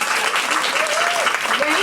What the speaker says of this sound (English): There's so many awards, you're going to have to clap a lot.